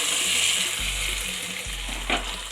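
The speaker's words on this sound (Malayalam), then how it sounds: "ഇനി തിളയ്ക്കുന്ന സാമ്പാറിലേക്ക് നമുക്ക് വറവിട്ട് കൊടുക്കാം." A tempering of mustard seeds and three dried red chillies, poured into boiling Kerala sambar, gives a continuous bright sizzle over a low steady hum, with a short flare near the end and no talking.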